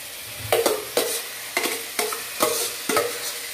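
Boiled potatoes and onion stirred in a frying pan, a spoon scraping in about six regular strokes over a soft, steady sizzle, close and fairly loud with no talking.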